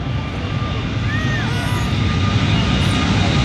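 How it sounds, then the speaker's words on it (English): An Airbus A380 airliner begins its takeoff run at the Farnborough Airshow 2014, a loud, steady engine roar that builds slightly at a distance, with a commentator talking over it. "we're starting the takeoff run now. Here comes from the right, the Airbus A380"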